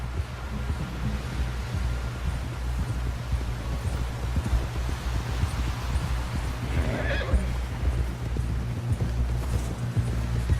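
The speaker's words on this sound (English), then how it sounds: "Someone help John down off this horse" A horse whinnies once, briefly, partway through, over a steady low rumble and rhythmic clip-clop of hooves, in what seems a Red Dead Redemption 2 ride back to camp.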